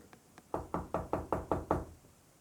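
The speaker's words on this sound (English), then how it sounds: "Can you knock on something for me?" Knocking on a hard object, about six or seven evenly spaced sharp knocks in quick succession, close and fairly loud, with a couple of softer taps before them and nothing else around.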